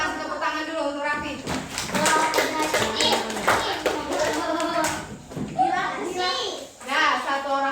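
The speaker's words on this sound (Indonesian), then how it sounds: "kita kasih tepuk tangan dulu untuk Raffi." Schoolchildren in a classroom give a round of applause for a classmate, a burst of hand claps and taps mixed with kids' chatter and an adult voice speaking over it throughout.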